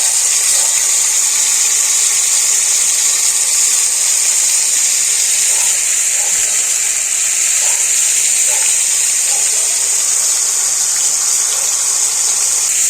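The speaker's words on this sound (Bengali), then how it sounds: "তেলের মধ্যে মাছগুলো এইভাবে দিয়ে দিতে হবে তো প্রত্যেকটা মাছ আমি একটু আটার মধ্যে কোট করে নিয়ে ভেজে নেব" Flour-coated lote fish fry in hot oil, making a loud, even, hissing sizzle that holds steady throughout with faint crackles and no talking.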